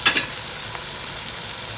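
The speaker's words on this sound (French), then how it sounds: "Et je vais laisser frire légèrement encore." Rice frying in a pan for tiebou gives a steady, close sizzle with a short stirring clatter at the start, no voices.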